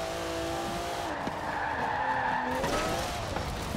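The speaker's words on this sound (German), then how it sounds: "Ach, der Wagen rutscht so." Tires squeal as a car skids in Forza Horizon 4, a loud continuous screech layered over engine roar, holding steady for several seconds with no talking.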